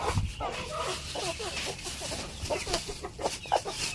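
Native hens cluck at feeding time, with steady close clucking and murmuring from several birds and a few louder calls.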